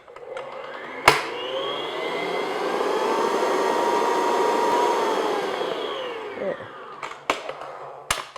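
Electric mixer beating vanilla extract into orange madeleine batter, a loud steady motor whine that starts with a click, holds evenly for several seconds, then winds down with a few knocks at the end.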